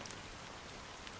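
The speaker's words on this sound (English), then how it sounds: "I feel like their sound mixing is very bad because I feel like the rain is a little bit too high here." Fine, steady rain in Honkai: Star Rail, a soft continuous hiss of drizzle falling on surfaces, faint and even throughout with no voices.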